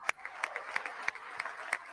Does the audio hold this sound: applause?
yes